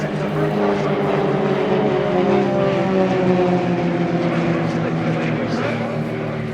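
Extra 330LX aerobatic propeller planes of an aerobatic display team at an air show, a steady droning propeller roar holding loud throughout, with a commentator talking over it.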